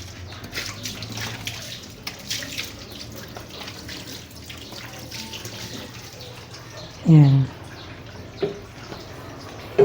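Water poured over a bicycle during washing streams and splashes steadily against the frame, with a louder gush partway through and a voice speaking briefly.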